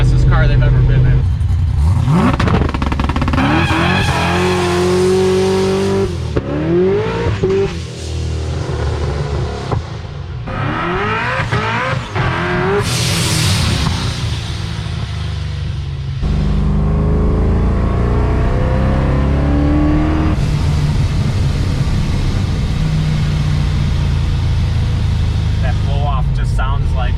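A loud, close 1000+ horsepower Procharged Mustang street car engine revving and accelerating hard, heard from inside the cabin, with repeated surges in pitch and people talking and reacting over it.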